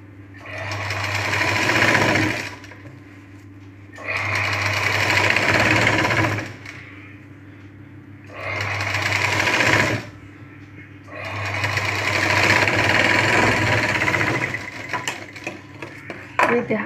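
Sewing machine stitching the neck of a blouse, running in four loud, steady bursts of rapid whirring separated by short quiet pauses.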